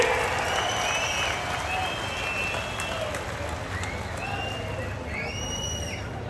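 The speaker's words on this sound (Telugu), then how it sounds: "అలాంటప్పుడు చప్పట్లు ఏ విధంగా మారుమోగాలో ఒక్కసారి మళ్ళా చేసి చూపించండి" A large crowd at a political rally in Kurnool applauds, a dense and sustained wash of clapping with a few high whistles rising above it throughout.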